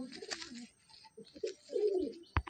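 An Old Nasal Madrasi (Malwai) pigeon coos in a loft at Basirhat, a close series of low, throaty murmuring coos that swell into a longer rolling call near the end, with a sharp knock just after.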